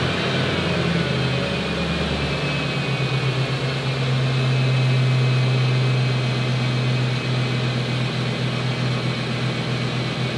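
A late-1990s to mid-2000s GM engine with a return-style fuel system cranks and catches, then settles into a steady, loud idle drone that runs on alone without talk.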